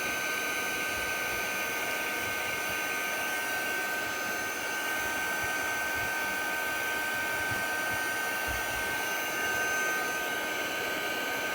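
A hair dryer blows on a mixed media canvas with Stamperia rice paper, a steady, loud, close whoosh with a faint whine that holds throughout without pause.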